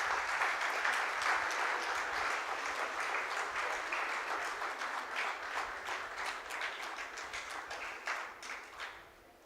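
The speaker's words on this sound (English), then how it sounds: "Please give them a round of applause." An audience at a health research conference gives sustained, dense applause that stays loud for most of the stretch, then tapers off toward the end.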